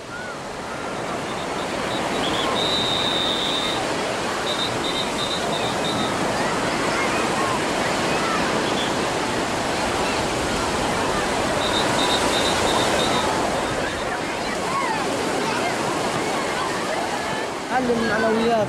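Continuous wash of ocean surf rolling in, broad and steady, with faint voices and occasional high calls mixed in.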